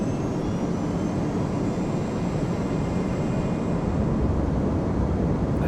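Boeing 767-300 jet engines in Flight Simulator X give a loud, unbroken broadband roar with a faint high whine on top, steady throughout and heard alone without talk.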